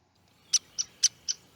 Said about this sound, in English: this pick call is the common contact call between these birds.